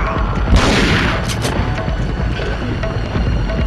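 Shotgun blasts from the video game Resident Evil 4, Separate Ways, a loud booming burst near the start followed by sharper cracks, with crackling game noise under it.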